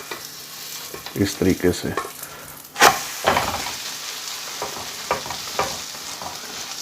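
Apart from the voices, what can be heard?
bread omelette egg flipped, sizzling in pan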